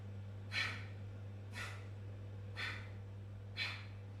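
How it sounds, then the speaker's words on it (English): Four sharp, forceful exhales through the nose in kapalabhati breathing, evenly spaced about a second apart, close and breathy over a steady low hum. "So it's a forceful exhale out of the nose."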